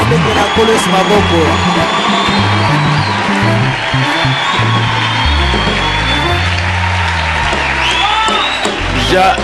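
A church congregation applauds and cheers, with a sustained roar of clapping, whoops and shouts filling the room, loud and close, while voices and low musical tones carry underneath.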